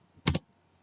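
A brief double keystroke on a computer keyboard while typing code, two quick close clicks in a fraction of a second against silence.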